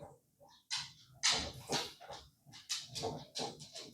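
Dog in a home, making a string of short whimpers and snuffling bursts, close and irregular, with quiet gaps between them.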